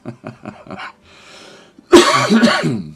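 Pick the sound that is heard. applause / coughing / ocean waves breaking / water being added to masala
coughing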